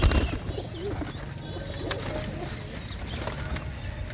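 Pigeons from a Punjabi fancier's loft coo in a low, continuous murmur, with a few faint chirps and wing rustles over steady background noise.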